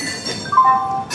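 The 13009 Doon Express rolls away from Howrah station, a steady rail rumble inside the carriage with a brief, thin metallic whine rising in the middle.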